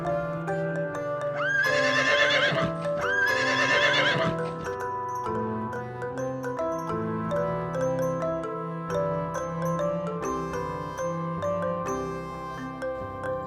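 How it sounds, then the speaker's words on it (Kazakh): A horse whinnies twice in quick succession, close and loud, with hooves clip-clopping, all set over gentle background music. "Лошадь."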